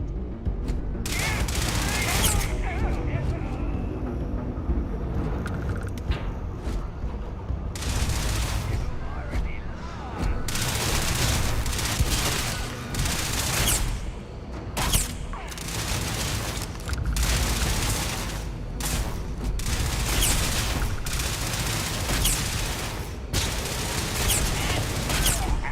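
Spaceship weapons in Starfield fire in repeated volleys with heavy booms through a long space battle, with occasional spoken voice lines between the blasts.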